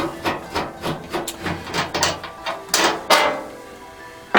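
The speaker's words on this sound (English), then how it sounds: "And we'll take off the back screw as well." A screwdriver backs a screw out of the rear of a kerosene heater, giving close, rhythmic metallic ratcheting clicks and scrapes in quick repeated turns, ending with a sharper clack, no talk.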